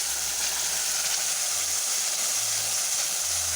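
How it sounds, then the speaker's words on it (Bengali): A cashew, peanut, tomato and ginger paste sautéing in a village-style kitchen gives off a steady, even sizzle and hiss that stays constant throughout, with no voice. "এবার এটাকে কষিয়ে নেব যতক্ষণ না এর কাঁচা গন্ধটা চলে যায়।"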